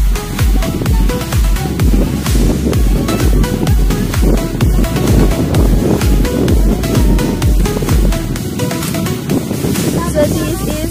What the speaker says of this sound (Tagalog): So, dahil sobrang hangin niya dito, grabe.